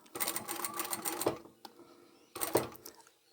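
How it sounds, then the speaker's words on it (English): A sewing machine stitches across the bottom of a fabric scrap project, two close bursts of rapid mechanical clatter separated by a short pause, with no one speaking. "So I'll stitch across the bottom, sew up the side"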